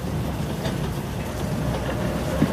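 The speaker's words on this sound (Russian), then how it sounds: "Я в поезде." Steady rumbling drone of a train in motion, heard from inside a passenger car, with a faint rhythmic rattle running continuously and evenly throughout, no voices over it.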